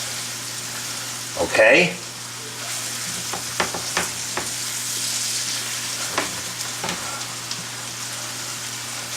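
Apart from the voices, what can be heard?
garlic and cauliflower hash frying and stirred in oil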